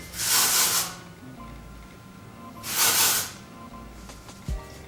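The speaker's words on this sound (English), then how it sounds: "So I basically just shake it up and I just spray into my roots first." Two long hissing bursts of aerosol hair spray sprayed into hair roots, each about a second, separated by a pause, followed by a faint rattle and a soft thud.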